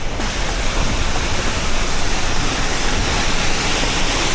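A mountain stream rushes beside the rough road to Muktinath in Mustang, Nepal, a loud, unbroken wash of flowing water that fills the whole scene with no voices.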